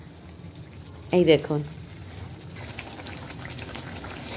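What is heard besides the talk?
pua pitha frying in oil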